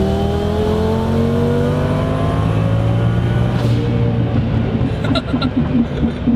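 Twin-turbo Lamborghini Gallardo tuned to about 1200 hp, engine note climbing steadily as it accelerates, loud and close from inside, easing off near the end with some clicking; faint voice underneath.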